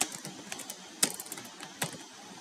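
Keys are tapped on a computer keyboard at a modest, uneven pace, with a few sharper clacks standing out among softer presses, quiet and close with no talk.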